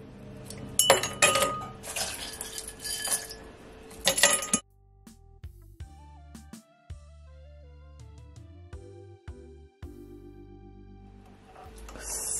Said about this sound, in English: Now I'm gonna pour it into my glass. I'm gonna add my remaining ice.